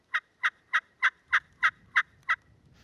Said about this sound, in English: You can tell it's a little sweeter yelp when you're doing that C shape.